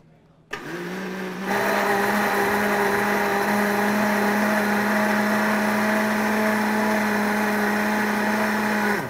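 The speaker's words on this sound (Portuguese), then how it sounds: "Aí a gente vai passar no liquidificador." A blender mixes panettone batter of butter and eggs, whirring steadily at high speed, a strong motor drone starting with a short burst and then holding loud and constant.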